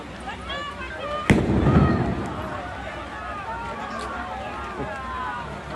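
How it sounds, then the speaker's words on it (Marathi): A single sharp explosive bang from a simulated bomb in a civil defence drill bursts out, then fades into a noisy crowd with people talking and calling out in the background. "बॉम्बचा स्फोट झालेला आहे"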